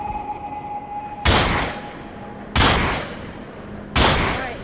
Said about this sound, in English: he's going to shotgun jump me out now